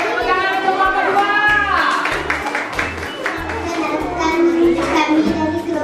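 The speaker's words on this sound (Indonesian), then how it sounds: "Tepuk tangan untuk kelompok 2." Classroom applause for a student group, brisk clapping from children mixed with chatter and voices, with a steady beat of music underneath throughout.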